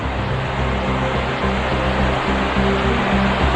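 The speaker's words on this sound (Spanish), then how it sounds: "se escucha el rumor de las caídas de agua que bajan con gran ímpetu" Waterfalls rushing steeply down from the hills near Laguna del Tesoro in Tucumán make a steady, dense roar of falling water that stays loud and unbroken throughout, with no voices.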